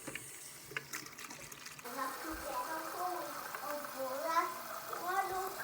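Water pouring into a container in a garden, a continuous gurgling trickle that begins partway through and runs steadily, fairly quiet, with people talking over it.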